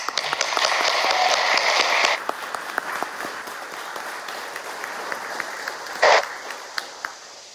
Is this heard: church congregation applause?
yes